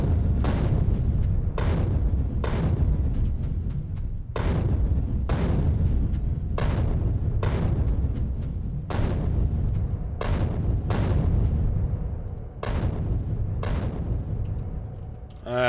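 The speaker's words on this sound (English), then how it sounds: "I'm going to use some more grenades and clear some more trees" Grenade explosions clearing trees in the video game Factorio, a rapid series of loud, booming blasts at fairly regular intervals, about a dozen in sequence with no talk.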